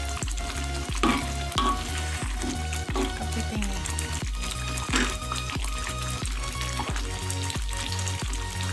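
Crab in Padang sauce being stirred in a hot pan, giving a steady bubbling sizzle broken by repeated scraping strokes of the spatula. It is close and moderately loud, with no talking.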